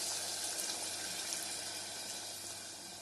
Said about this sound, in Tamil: இப்போ அதில் கொஞ்சம் போல் தண்ணி ஊற்றி